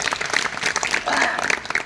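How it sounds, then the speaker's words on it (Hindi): An audience claps during a talk, a fairly loud burst of many hands applauding for about two seconds with some crowd voices mixed in. "बजाओ ताली इस बात से"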